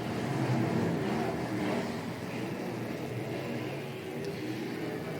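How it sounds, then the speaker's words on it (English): USAC/CRA sprint cars racing at Kern Raceway produce a dense, loud engine roar that swells and fades slightly as the pack passes, with no talk heard. "And here comes the 47 of Charles Davis Jr. trying to make a move to the inside, but David Gasper on the high side with the"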